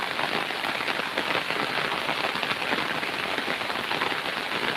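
Heavy rain pours down on a farm with crops such as yard-long bean plants, a dense, steady hiss of drops hitting surfaces that stays loud and unbroken throughout, with no voices.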